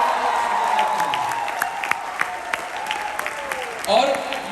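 An audience at a hotel program bursts into applause, a crowd clapping steadily beneath a speaking voice and background chatter, swelling near the end.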